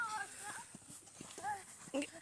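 Horse hooves clip-clop faintly in an irregular patter at an outdoor fair in Arunachal Pradesh, partly buried under voices and crowd chatter.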